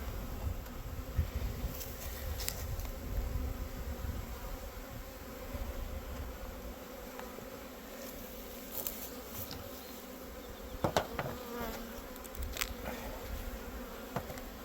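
Carpathian honeybees buzz steadily around a hive, a dense continuous drone with occasional louder passes of individual bees close by.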